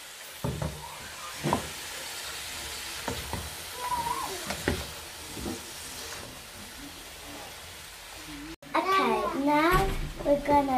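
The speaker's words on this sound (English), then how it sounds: "Now, I'm going to give it all a mix." Tomato and vegetables are stirred in a hot pan, a steady sizzle and scraping heard close up while voices talk, including a child's, then louder chatter near the end.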